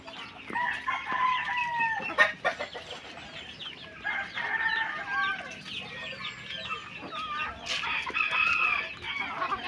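Roosters crow repeatedly, with hens clucking around them, fairly close and loud outdoors.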